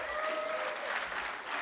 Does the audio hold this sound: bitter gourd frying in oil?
no